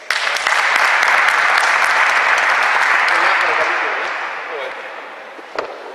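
An audience at a basketball coaching clinic applauds the Real Madrid assistant coach, a loud, sustained round of clapping that holds steady before gradually thinning and fading out near the end.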